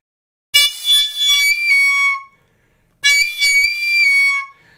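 Two long, bright whistling tones from a tube with a row of finger holes, one hole not fully covered. Each tone is shrill and impure, with a wavering, buzzy overtone, and the two are separated by a brief silence.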